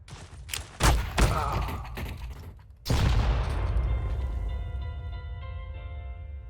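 Loud explosive grenade booms in Counter-Strike: Global Offensive, a couple of sharp blasts followed by a long rumbling detonation that slowly fades out.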